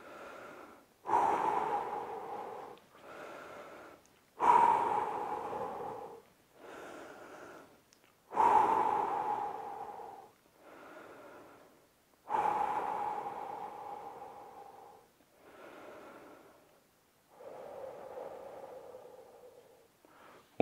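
Heavy breathing during a 30-second rest in a home fat-loss workout, heard as a steady series of loud, close exhalations and inhalations repeating every couple of seconds, with no talking.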